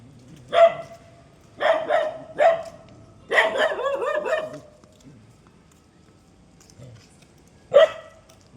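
Local street dogs bark on a city street at night, loud close barks in several quick clusters, including a rapid run of overlapping yelps, then a pause before one more sharp bark.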